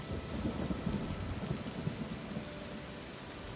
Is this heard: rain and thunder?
yes